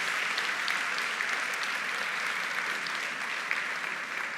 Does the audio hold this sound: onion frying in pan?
no